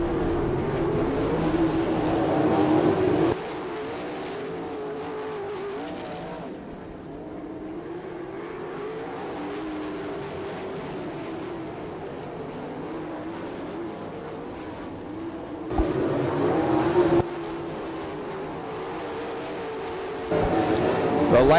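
Sprint-style race cars at Attica speedway in Ohio produce a continuous engine drone that swells loudly as cars pass and eases between them.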